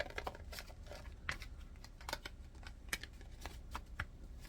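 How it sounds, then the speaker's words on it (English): A deck of tarot cards being shuffled by hand, quiet crisp riffles and flicks in an uneven rhythm, close by and soft against a low background hiss. "let me give them a shuffle"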